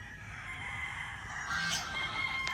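A rooster on a Philippine farm crows once, fairly close, over a steady wash of outdoor ambience with no voices.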